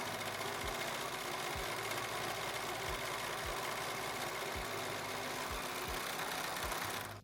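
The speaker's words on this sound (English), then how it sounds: "you're going to serge the top side of your front only" A serger runs steadily as it stitches along the top side of pant fabric, giving a continuous whirring hum with soft, regularly repeating low thumps throughout and no talking.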